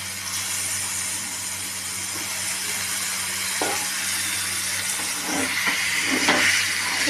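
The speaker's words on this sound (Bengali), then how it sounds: "এবার আমি চিকেনগুলো দিয়ে দিচ্ছি।" Chicken pieces drop into hot gravy in a pan, setting off a continuous hiss and sizzle with a few soft spoon or pan knocks toward the end and no voices.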